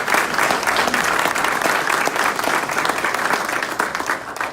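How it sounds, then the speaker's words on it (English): A crowd at a bill-signing ceremony at the CBA of Georgia headquarters gives a loud, continuous round of applause for the legislation's author, steady and full from start to finish. "join me in giving John a round of applause"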